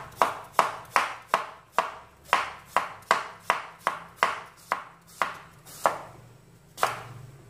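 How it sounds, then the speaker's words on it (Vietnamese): A knife chops sweet potato into small pieces on a cutting board in about fourteen sharp, evenly spaced thuds, close and clear with no talk, with a short pause before the last chop. "Mình thái nhỏ thì khoai của mình nấu cho nó sẽ nhanh dừ hơn."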